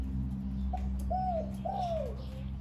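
A five-year-old zebra dove gives a short series of soft, clear, mid-pitched warbling coos that swoop up and down, heard over a steady low mechanical hum.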